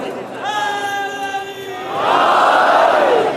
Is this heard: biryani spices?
no